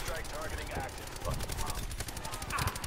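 Rapid automatic gunfire fills the Call of Duty Nuketown deathmatch map, dense bursts of shots layered under excited player voices and game noise, with a louder close burst near the end.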